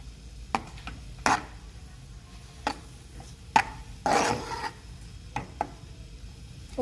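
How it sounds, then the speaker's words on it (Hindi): Milk is stirred in a pot for rasmalai, with a spoon scraping and knocking against the pot in uneven strokes, close and fairly quiet with no talk. "इसको हिलाएंगे अच्छी तरह से।"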